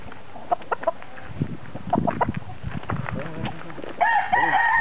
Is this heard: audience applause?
no